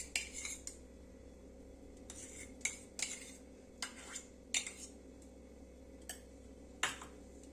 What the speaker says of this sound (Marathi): सो आता आपण बर्फाचा खडा घेऊन हे तूप जे आहे ते मस्त असं फेटून घेणार आहोत।